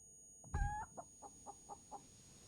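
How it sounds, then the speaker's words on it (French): Chicken clucking in the space survival game Breathedge: one louder squawk followed by a row of five soft, evenly spaced clucks, heard alone. "Un poulet. Oui, le poulet est omniprésent dans ce jeu."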